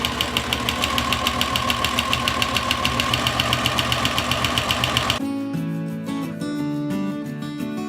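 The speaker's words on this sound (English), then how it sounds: "Put your presser foot down and start sewing." A sewing machine stitching a seam through fabric, running with a fast, steady, mechanical clatter of evenly spaced stitches for about five seconds before stopping, after which music continues.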